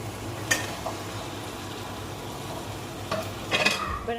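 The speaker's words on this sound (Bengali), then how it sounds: "এটা আরও প্রায় চার থেকে পাঁচ মিনিট মশলার সাথে ভেজে নেব" Fish heads frying with tomato and spices in a pan, a steady close sizzle broken by a few scraping stirs of a utensil against the pan, with no talking.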